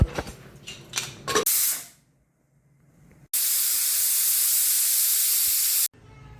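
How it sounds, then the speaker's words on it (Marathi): Pressure cooker boiling chickpeas lets out a loud, steady jet of hissing steam lasting a couple of seconds, following some clattering and a brief quiet stretch. "एक ग्लास पाणी टाकून ह्याला चार शिट्ट्या करू आपण आता कुकरला लावून"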